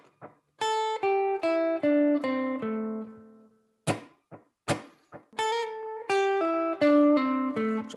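Guitar playing a pentatonic scale lick, a descending run of clean plucked notes, paused, then repeated, with a few muted percussive string taps between phrases.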